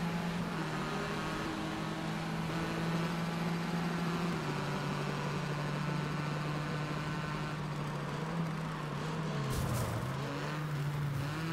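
A car engine drones steadily in the rally video game Gravel, holding a low, even tone that dips briefly as the car turns, with a faint noise burst near the end and no talk.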